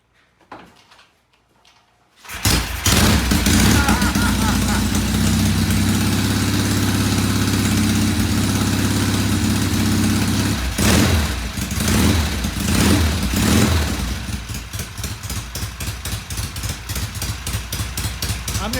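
A yellow Norton motorcycle fires up after a couple of seconds of near silence, then settles into a loud, steady, close idle, with a few revs and a slightly uneven, pulsing beat toward the end.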